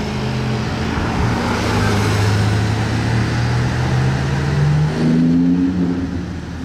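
Porsche GT2 RS sports car on a Monaco street, engine note rising and falling as it moves past amid steady traffic and road noise, no talking.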